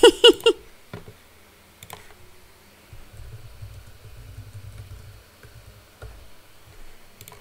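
Bursts of computer keyboard typing during a game of Duskers, with scattered sharp key clicks and short flurries against a low rumbling background, and no talk.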